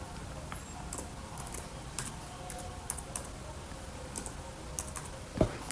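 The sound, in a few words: typing on a computer keyboard in Photoshop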